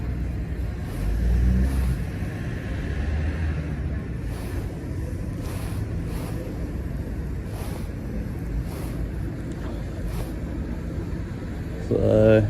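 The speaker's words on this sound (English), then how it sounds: "Lots of vehicles." Traffic rumbles along a UK road as many vehicles pass, making a steady low roar with some wind noise and a louder swell near the end, while someone talks at times.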